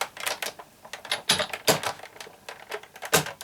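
A die-cutting machine rolled forwards and backwards through card, giving a run of close, loud mechanical clacks and rattling bursts in uneven rhythm, with no talking.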